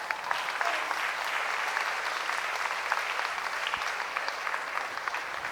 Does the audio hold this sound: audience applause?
yes